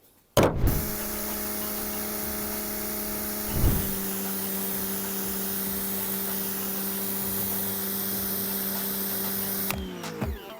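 A 2E AquaClean 175 high-pressure mini washer starts with a sharp click, settles into a steady motor hum with strong tonal whine and hiss of spray, briefly dips mid-run, then cuts off near the end.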